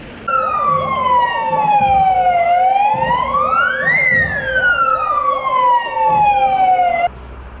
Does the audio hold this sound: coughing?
no